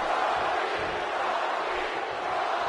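Arena crowd in the WWE 2K18 wrestling game raising a Rocky chant, heard as a steady, dense roar of many voices that holds evenly throughout without clear breaks.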